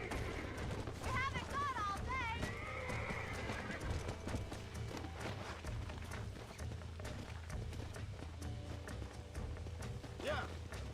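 A horse in the Red Dead Redemption video game neighs loudly and whinnies again later, over rhythmic clip-clop of hooves and a busy game soundscape, with a player's voice talking at times.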